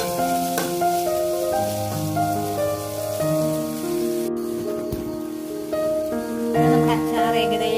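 Mustard and fenugreek seeds splutter in hot oil while pickle is made in a home kitchen, giving a steady crackling sizzle that runs continuously beneath louder background music.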